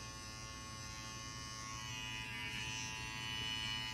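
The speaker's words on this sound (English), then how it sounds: "Got to get the arm test when you got a new trimmer. It cuts very smooth." A new Suprent electric hair trimmer cuts arm hair, giving a steady, close electric buzz that holds without a break and swells slightly near the end.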